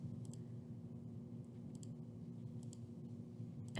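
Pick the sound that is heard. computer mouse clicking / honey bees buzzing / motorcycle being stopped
computer mouse clicking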